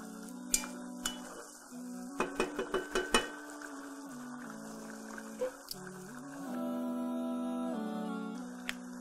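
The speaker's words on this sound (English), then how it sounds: "Stir this up. Stir this nicely." A spoon stirs dawa into a pot during Ramadan cooking, with a quick run of metallic clinks and scrapes over a steady tonal background, and no speech.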